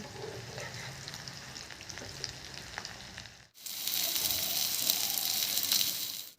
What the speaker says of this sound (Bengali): সবগুলোকে এইভাবে ভেজে নিয়েছি একটু হালকা করে